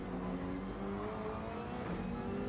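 A race car in Gran Turismo 7 overtaking another car, with a steady engine whine that shifts in pitch while passing, continuous and fairly faint with no talking.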